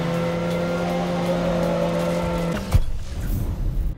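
A race car engine in Need for Speed Underground holds a loud, steady high-revving drone, then abruptly drops off with a thud and rough scraping, skidding noise.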